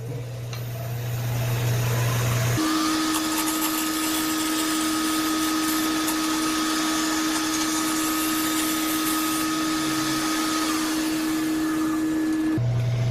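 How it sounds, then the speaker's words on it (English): A skew chisel used as a scraper on a wood sphere spinning on a lathe, a steady loud motor whine with a continuous rough scraping hiss that holds for about ten seconds, with no talking. "I'm just using, you know, my skew as a scraper"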